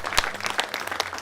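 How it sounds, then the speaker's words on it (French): Applause from the congregation at a religious mass celebration, a brief stretch of scattered clapping with sharp individual claps standing out, fairly close and lively. "Et de forts applaudissements."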